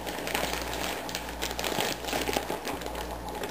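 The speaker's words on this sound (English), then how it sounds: "So what I'll do is I'll take a plastic bag" A plastic bag crinkles and rustles steadily as a freshly cleaned and lubricated fishing reel is slipped inside and sealed, close and continuous with crisp crackles, no talking.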